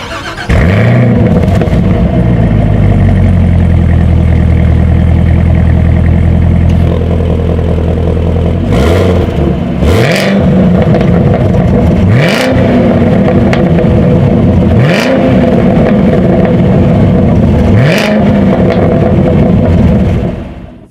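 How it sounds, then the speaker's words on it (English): Loud engine revving from a 2019 Chevrolet Camaro ZL1 in repeated bursts, a deep growling exhaust rising and falling several times with sharp crackles and pops between revs. "let out a beast of a growl with some amazing crackling as well to it"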